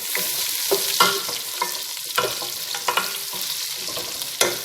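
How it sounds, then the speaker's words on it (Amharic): Garlic sizzles in melted butter in a pan, a steady close frying hiss broken by scraping clicks as it is stirred, with no voices. "ቂቤ ሲቀልጥልኝ እዚህ ጋር ነጭ ሽንኩርት ነው የምጨምርበት"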